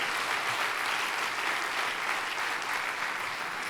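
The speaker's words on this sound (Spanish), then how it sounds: "si le vas a aplaudir, apláudele fuerte al Señor" A church congregation claps loudly for the Lord during a Sunday service, a dense, continuous wall of applause from a large crowd with no break.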